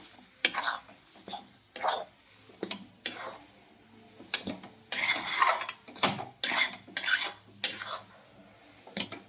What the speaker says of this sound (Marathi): थोडीशी कट केलेली वरून कोथिंबीर घालून हे सगळं मिक्स करून घ्यायचं आहे आपल्याला